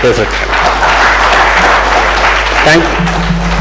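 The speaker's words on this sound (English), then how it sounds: "I think a huge round of applause for a fantastic book." An audience applauds a book at a governance talk, a steady, broad wash of clapping from a large room with a low hum beneath, ending as a voice briefly speaks.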